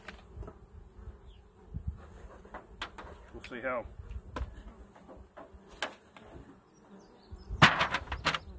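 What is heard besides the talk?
honey bees buzzing around hive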